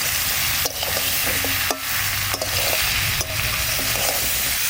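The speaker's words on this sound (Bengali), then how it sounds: "এবার চিচিঙ্গাটা দিয়ে দিচ্ছি। চিচিঙ্গা দিয়ে বেশিক্ষণ ভাজবো।" Ridge gourd and potatoes stir-fried in a pan give a continuous sizzle, cut through by four or five sharp scrapes and knocks of a spatula at an uneven pace.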